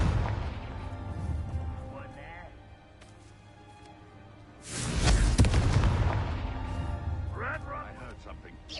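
A Confringo spell explosion in the Hogwarts Legacy video game, one sudden loud fiery burst that sustains and crackles for a few seconds, with a voice speaking before and after it.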